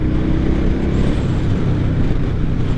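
A Suzuki Boulevard M109R B.O.S.S. motorcycle cruising at about 70 mph in fourth gear near 3,500 RPM, giving a loud, steady low engine drone mixed with wind rush throughout, no talking.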